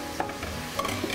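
Finely chopped garlic sizzles in a hot pan while a utensil stirs and scrapes, a steady frying hiss with small clicks, close and without talk.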